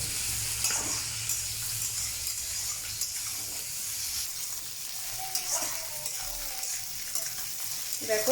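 Fish roe frying in hot oil in a home kitchen pan while being stirred, a continuous close hiss and sizzle with occasional scraping of the spoon, heard alone without speech.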